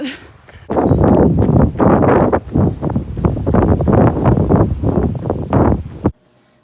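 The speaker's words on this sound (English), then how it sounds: "Look how freaking windy it is." Strong wind buffets the microphone in loud, gusty bursts for several seconds, then cuts off abruptly.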